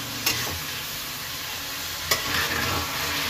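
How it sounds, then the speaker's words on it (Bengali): Mutton with ginger-garlic paste fries in oil for a bottle gourd mutton curry, a steady close sizzle with a couple of sharp spatula knocks and scraping stirs. "এটাও 2 1 সেকেন্ড একটু নাড়াচাড়া করে নেব।"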